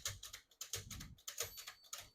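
Tab stops cleared on a 1957 Smith-Corona Silent-Super portable typewriter, heard as a quiet series of sharp mechanical clicks and clacks in an uneven rhythm, close and alone.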